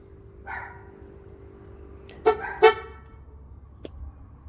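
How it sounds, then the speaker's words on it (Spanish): Two short, loud horn blasts from a Ford Ranchero camper with a wiring fault, in quick succession, with a faint click afterward over a low background hum. "Resulta que lo conecto y empieza a sonar la bocina."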